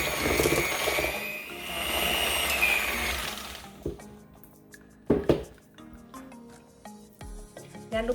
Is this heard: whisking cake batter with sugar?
yes